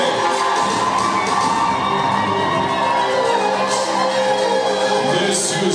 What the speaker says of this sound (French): La famille Kaïn acclamez très fort